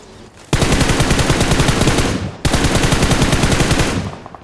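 Loud sustained automatic gunfire in the BGMI battle royale video game, two long rapid bursts with a short break between them, fading at the end.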